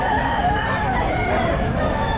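A rooster crows amid the busy din of an outdoor pet market in the rain, its call blended into constant crowd noise and chatter rather than standing out alone.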